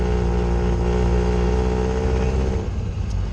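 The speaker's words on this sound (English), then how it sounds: "The sound of the exhaust is so farty." A four-cylinder car engine revs with a deep, raspy exhaust note, loud and close, holding steady before dipping slightly near the end.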